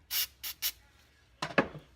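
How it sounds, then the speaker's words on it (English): Short hissing bursts of aerosol cleaner sprayed onto the indexer of a Lee Loadmaster reloading press, three quick sprays followed by a rougher, clattering spray, close and fairly quiet. "spray a little bit more lube on there, or not lube, but cleaner"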